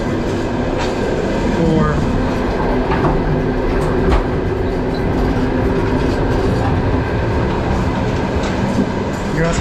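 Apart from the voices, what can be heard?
night train running on rails in Kazakhstan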